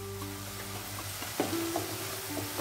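Katla fish pieces fry in a pan while salt and turmeric are stirred in, giving a soft, steady sizzle broken by a few scraping spoon strokes.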